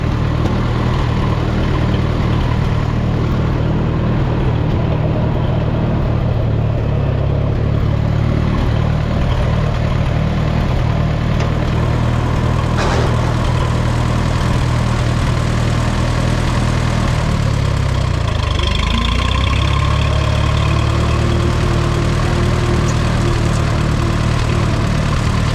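A Minneapolis Moline M5 tractor engine idles steadily and loudly up close for a long stretch, a deep rumbling drone with a slight dip in pitch partway through, no voices.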